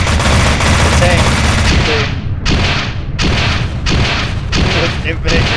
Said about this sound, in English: With infinite grenades and machine gun shots